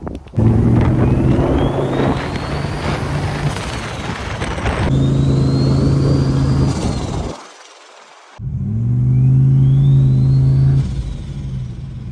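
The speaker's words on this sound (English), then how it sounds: "he literally just sits on the brake, feathers the throttle, and this thing just starts lighting the tyre" A turbocharged LS1 V8 in a VY sedan revs hard through a rear-tyre burnout, loud and close, with rising turbo whine and wind buffeting, dropping briefly to near silence before roaring again.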